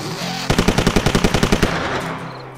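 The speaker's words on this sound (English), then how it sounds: "Utilize a breech-loaded projectile-based firing weapon." Rapid burst of about fifteen evenly spaced shots from a breech-loaded firearm, loud and close, lasting just over a second before trailing off into a fading echo, with no one talking.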